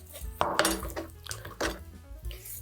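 Chicken wings being cut with a knife on a board, joints popped apart, giving a run of sharp clicks, knocks and cracks at close range with no talking.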